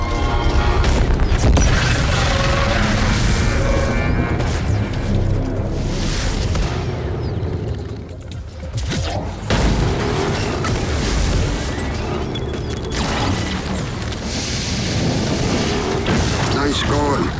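Space combat in the video game Starlink: Battle for Atlas: loud weapon fire and booming explosions crash repeatedly, dense and close, mixed with game sound effects and a game character's voice.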